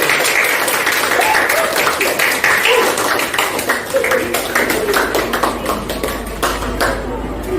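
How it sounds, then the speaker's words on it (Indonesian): Classroom applause for a student group, steady crowded clapping that runs throughout at close range, with some voices mixed in. "kita beri tepuk tangan dulu untuk kelompok 1"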